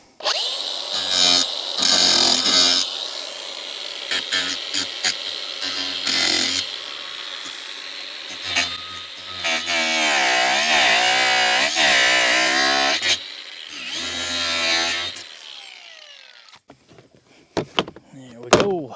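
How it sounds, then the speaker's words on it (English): An angle grinder cuts through stuck bolts on a Suzuki Eiger 400 ATV, loud and close, with on-off bursts, long whining cuts and clanks of metal near the end. "when bolts don't want to come, you pull out the grinder"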